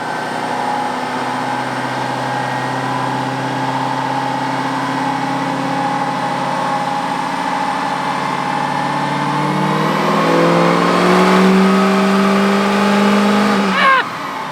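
An L5P Duramax diesel truck with a 67mm VGT turbocharger roars loud and close under a full dyno pull, its engine tone climbing steadily before a sharp rising burst near the end.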